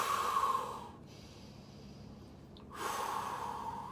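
Heavy, forceful breathing during cold exposure: loud, broad breaths at the start and end with a quieter held stretch in between, close to the mic.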